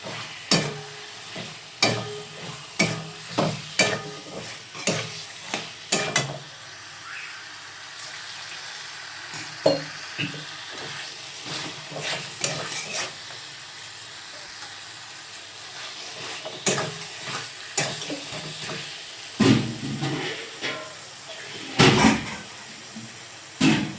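Potatoes fried with salt and turmeric being stirred into a cooked-down spice masala for Kashmiri aloo dum in a home kitchen, with repeated sharp scraping and clattering stir strokes over a steady low sizzle, close and fairly loud, no talk.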